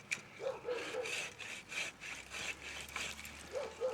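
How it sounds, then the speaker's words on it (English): Repeated back-and-forth strokes of a Silky Gomboy Outback Edition hand saw cutting through wood, close and steady, with a dog barking faintly in the background. "I'm going to cut this one here."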